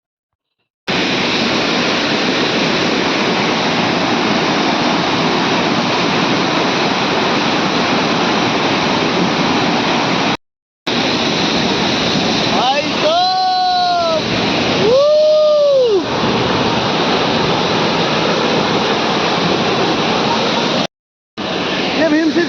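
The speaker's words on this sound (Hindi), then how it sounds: "हमको प्यारा सा झरना मिला, जिसका नाम था भीमतोली या भीमसी झरना।" Bhimsi waterfall on the Madhmaheshwar trek gives a steady, close rushing roar that fills the scene, broken by a couple of short cuts, with a brief high voice-like tone rising over it midway.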